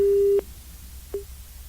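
A telephone busy tone sounds after a call is hung up: one longer steady beep, a pause, then a short beep, clear against a quiet line.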